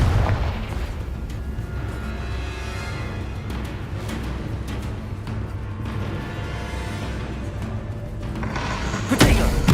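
A Confringo fire spell from Hogwarts Legacy lets loose a loud blast, with heavy booming rumble running throughout and a sharp burst near the end.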